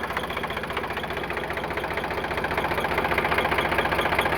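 An Eicher 368 tractor engine idles with a steady rhythmic diesel chug and mechanical knock, close by and fairly loud, growing slightly louder toward the end with no one talking.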